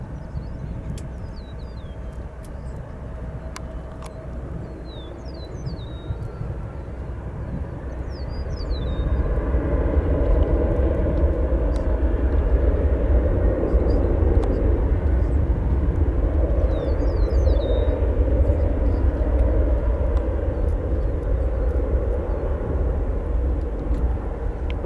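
At O'Hare Airport, an airliner such as an Embraer 175 or A320 passes overhead as a broad jet roar that swells and holds loud, with a few small bird chirps above it early on.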